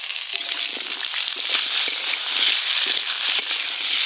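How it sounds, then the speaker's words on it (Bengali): Dried red chillies and whole garam masala fry in hot oil in a pan for a fish curry, giving a loud, continuous crackling sizzle close up, with no voices. "শুকনো লঙ্কা আর গোটা গরম মশলা কোঁড়াতে দিয়ে দেব।"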